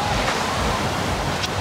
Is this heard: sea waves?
yes